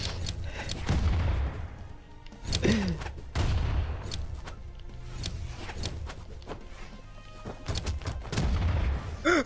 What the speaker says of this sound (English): What did you throw a bomb towards me?